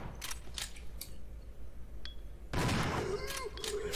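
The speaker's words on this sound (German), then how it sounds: "Das braucht ja viele Schuss," Shotgun blasts ring out while zombies are fought in the video game Resident Evil 0 HD Remaster, with a few sharp scattered reports followed by a louder burst of gunfire and echoing effects.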